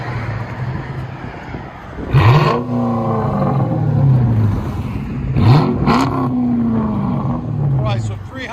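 A Chrysler 300 with a 5.7L HEMI V8 and Dynomax Race Bullets exhaust blips its throttle twice, each loud rev climbing sharply then sinking back to a rumbling idle, with a third quicker blip at the end.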